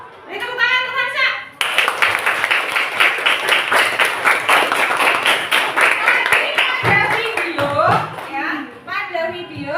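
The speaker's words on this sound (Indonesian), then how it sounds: "Beri tepuk tangan untuk Hansa" A class of students bursts into sustained, rapid clapping for a classmate, loud and close, with voices talking just before and after the applause.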